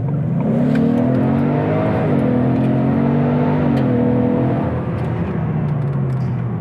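Ford EcoBoost turbo engine held at high revs, a loud steady drone with rising and falling pitch and a faint whir over it, heard close from inside the car with no talking.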